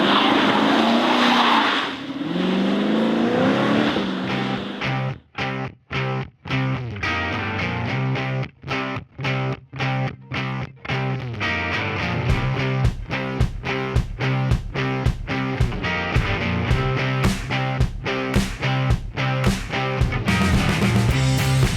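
A 2017 Lexus GS F with a naturally aspirated V8 accelerates hard. The engine rises through the revs, broken by sharp gaps at each gearshift, and the note climbs again after every shift. The sound is loud and close.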